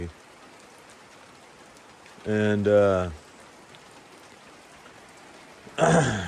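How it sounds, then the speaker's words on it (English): Steady rain patters continuously in the background on the trail near Katahdin in the 100-Mile Wilderness while someone speaks briefly twice over it. "I'm hoping this rain slows down a little bit."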